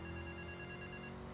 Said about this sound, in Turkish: Telefon çaldı çünkü.